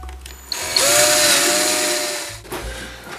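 A power drill bit boring through a wooden board backed by a second scrap piece, a loud whining grind that rises sharply, holds for about two seconds, then cuts off.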